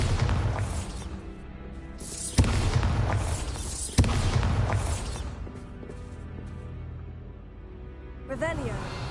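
Bombarda spell explosions in the video game Hogwarts Legacy, two sharp booming blasts a couple of seconds apart over a rumbling game soundscape, followed by a softer burst near the end.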